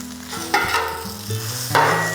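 Sausages and Canadian bacon sizzle on a griddle at about 400 degrees, a close frying hiss broken by a few scraping and clinking spatula sounds, with no talking.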